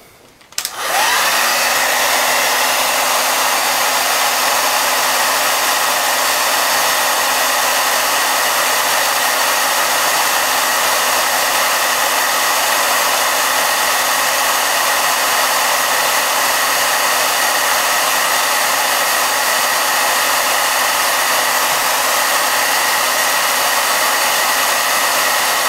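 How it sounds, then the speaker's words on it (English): A hairdryer blows hot air to shrink cable sleeving, clicking on and then running as a loud, steady, continuous whoosh with a constant motor whine for the rest of the stretch. "so I'm using a hairdryer here."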